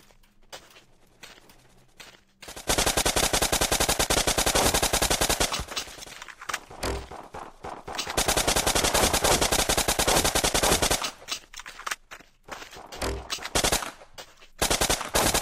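Gunfire in the blocky shooter game Blockpost: long sustained bursts of rapid automatic fire, loud and close, with short pauses and single shots between the volleys.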